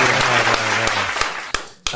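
Applause for a guest, a firefighter dad, fills the clip as a dense, loud wash of hand claps with a few sharper individual claps near the end.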